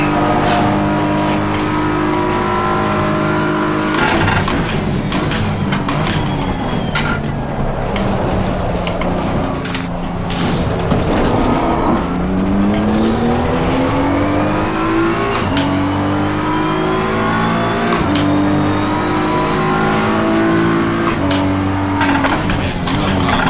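Race cars in Assetto Corsa Competizione pass a slower GT4 car, engines roaring loud and steady throughout, with revs climbing and dropping as the cars shift gears and jostle for position.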